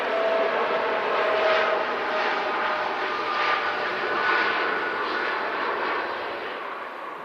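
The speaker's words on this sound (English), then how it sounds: "Dreamliner on the rollout next" Boeing 787 Dreamliner on its landing rollout at Manchester Airport: a steady, moderately distant engine roar with a broad rushing wash, holding level before easing slightly at the end.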